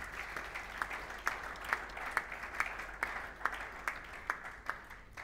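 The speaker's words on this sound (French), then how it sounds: "Est-ce qu'on peut acclamer le roi des rois?" Church congregation at a Sunday service applauding steadily, a dense wash of clapping with sharper individual claps standing out in a regular rhythm, moderately distant and filling the room.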